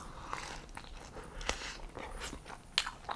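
A person chewing food close to the mic, with wet lip and mouth noises and a few sharper crunchy bites scattered through a steady, quiet mastication rhythm; no talking.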